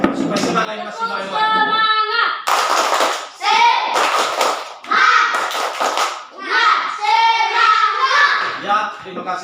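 A class of fifth-grade primary school children in a classroom do a spirit clap, sharp claps in bursts mixed with loud chanting young voices, fairly close and lively throughout.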